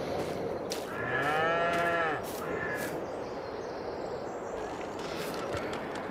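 In the video game Farming Simulator 22, cows moo in a drawn-out, wavering low call, with a second shorter moo after it, over a steady background hum and a few crow-like caws.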